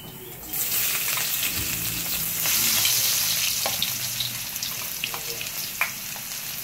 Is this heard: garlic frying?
yes